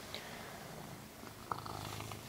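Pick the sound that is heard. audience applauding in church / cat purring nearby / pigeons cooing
cat purring nearby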